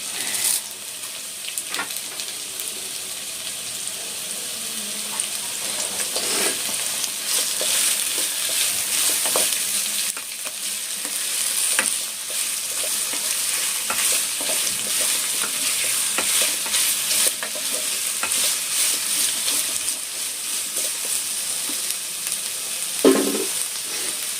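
Onions and curry leaves fry in a pan for paneer kurma while being stirred, a steady bright sizzle running throughout with occasional scraping knocks, close and continuous, no voices.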